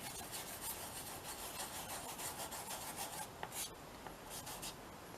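Leftover gold leaf bits are rubbed off a mixed media collage, producing quiet, close, repeated scratchy rubbing strokes in an uneven rhythm, faint and with no voices.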